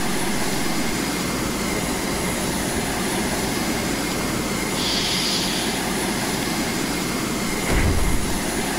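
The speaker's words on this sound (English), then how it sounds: "Noah's bringing another aircraft to the party." Steady aircraft engine drone from a Razorbill plane in a naval island-capture strategy game, a continuous even roar with a brief louder swell near the end.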